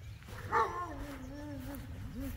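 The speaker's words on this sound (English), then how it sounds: "and a lonely dog." A lone dog near a lakeside road lets out a short bark followed by a drawn-out whining howl that rises and falls, moderately distant over a low rumble of background noise.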